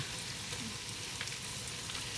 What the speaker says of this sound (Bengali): আমরা এখানে মাংসটা এই যে এর মধ্যে দিব একটু ভাজা ভাজা হবে